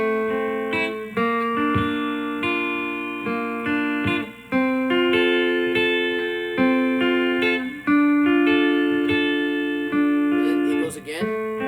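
An acoustic guitar plays the picked chord pattern from a song, with ringing fretted notes that overlap and change chords every second or two, close and clear with no voices.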